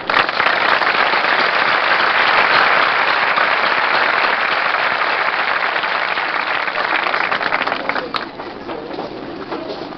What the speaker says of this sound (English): receive our applause